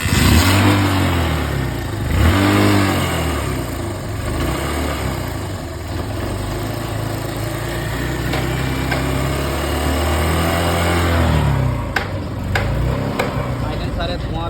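A Honda CB Trigger motorcycle engine, freshly rebuilt with new piston rings and reset timing, idles close by with a steady beat. It revs up and falls back several times.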